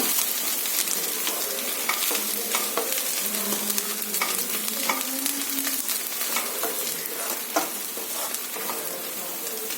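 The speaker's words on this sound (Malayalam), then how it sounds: "വീണ്ടും ഇനി ഇളക്കി കൊടുക്കുക." An egg and drumstick leaf stir-fry is stirred in a pan over a steady, loud sizzle, with repeated scraping strokes of the spoon close up throughout.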